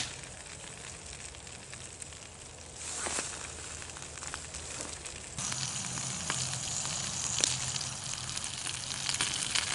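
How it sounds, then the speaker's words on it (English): Bratwurst sizzles over campfire coals in a backyard, a continuous crackling hiss that grows louder partway through, with occasional sharp pops and crackles. "Okay, so you can hear the sizzle."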